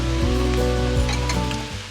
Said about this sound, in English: We're gonna add in our 4 cups of chopped cabbage and our 2 carrots that I quartered or halved and diced.